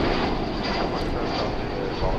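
An Airbus A321 arriving from Denver at DFW Airport gives a steady, loud broadband engine roar that holds throughout without a break.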